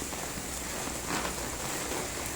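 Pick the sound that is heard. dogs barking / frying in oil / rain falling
rain falling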